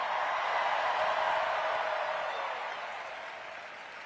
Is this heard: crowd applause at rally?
yes